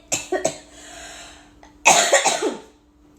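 Several sharp coughs from a single person: a couple of quick ones at first, then a louder cluster of harsh coughs after a short pause.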